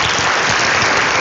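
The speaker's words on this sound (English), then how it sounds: "So can we give them all applause again because y'all did a fantastic job." Dense, steady applause from an audience honoring youth speakers at an annual program, loud and close, filling the whole moment without any voices over it.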